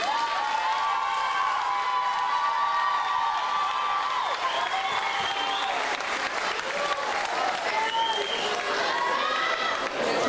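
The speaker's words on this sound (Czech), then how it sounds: "vy už jí teď potleskem sdělíte," An audience at a school class farewell event applauds a student, dense steady clapping with some cheering and voices mixed in, continuous throughout.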